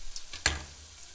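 Two small onions frying in a pan for a warm chicken spinach pie, a soft steady sizzle with one sharp scrape or clatter as they are stirred, close and fairly quiet.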